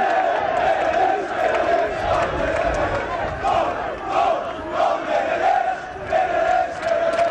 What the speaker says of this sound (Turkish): Evet bütün futbolcular için şu anda tek tek ismen tezahüratlar yapılıyor.